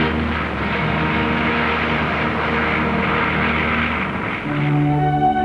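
An early airplane takes off at an aviation demonstration in Deauville, a French seaside resort, its engine droning loud and steady and shifting in pitch toward the end.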